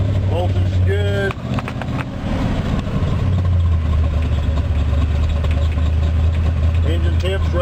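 A 1978 Jeep CJ7 engine idles steadily with a low, constant rumble throughout, briefly interrupted near the start, while someone talks over it.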